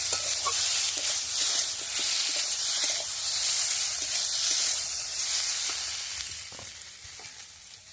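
Steady, loud sizzling and hissing of a Bengali-style vegetable banana curry in a pan after water is poured in, a continuous bubbling hiss with faint stirring clicks and no voices, easing slightly toward the end.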